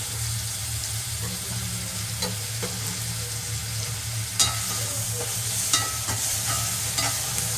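Two small tomatoes sautéing in a pan for a mutton bone soup, with a steady sizzle throughout and occasional stirring scrapes and clicks, close and fairly loud, no talking.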